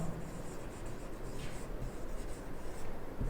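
Chalk or marker scratching out an English sentence on a classroom board, a steady continuous scraping with small strokes, fairly close and alone without talk.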